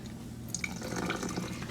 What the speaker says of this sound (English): we're gonna add in just a tad bit of some apple cider vinegar